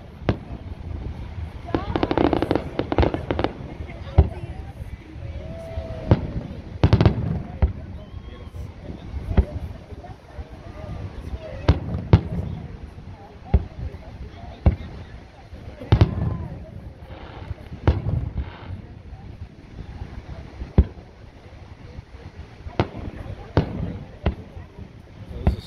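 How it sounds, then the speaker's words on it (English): Fourth of July fireworks at Redondo Beach, with repeated booming and crackling bursts at varied distances, some sharp and close, others rumbling farther off, over steady crowd and ambient noise with occasional voices. "he's out there to watch the fireworks"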